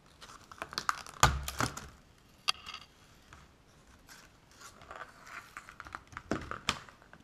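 Plastic blister packaging of a Savage Gear Line Thru pike lure being torn and opened by hand, with several sharp crackling snaps and crinkles up close, then quieter rustling and a few more loud clicks toward the end.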